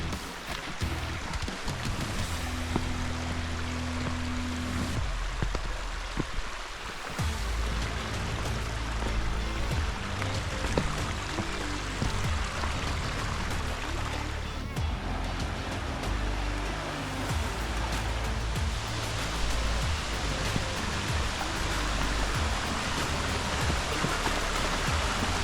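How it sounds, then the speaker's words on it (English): Steady rushing water of a stream approaching a waterfall in the Cape Breton Highlands fills the whole stretch, a continuous broadband wash with a low rumble underneath. "I loved hearing the water babble in the stream, continually getting louder as we approached the falls"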